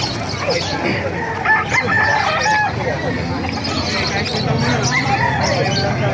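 Chickens cluck and a rooster crows amid a busy, noisy market yard in Calumpit, Philippines, with people talking in the background.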